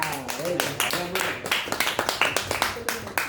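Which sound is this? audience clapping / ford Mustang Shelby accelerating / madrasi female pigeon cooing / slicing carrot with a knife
audience clapping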